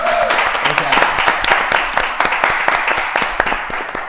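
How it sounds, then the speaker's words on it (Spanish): Studio audience at a Spanish talk-show recording claps loudly with sharp individual hand claps standing out, mixed with some crowd noise throughout. "por favor, un fuerte aplauso para vosotros"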